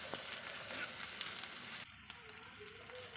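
Small shrimp frying in oil, a steady loud sizzle that drops to a quieter, softer bubbling partway through.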